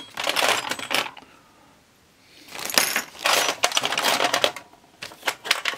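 Metal class 15 sewing machine bobbin cases dropped into a container, producing loud, close clattering metallic jingles in several bursts separated by a quiet gap.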